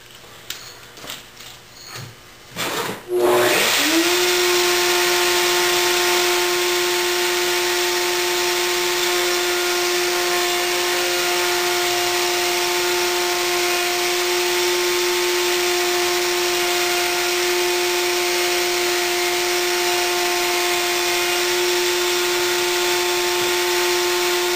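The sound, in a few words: router cutting a round-over edge on a piece of wood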